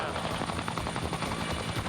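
A steady, dense rotor drone of a military helicopter fills the clip, loud and continuous with a rough pulsing texture throughout.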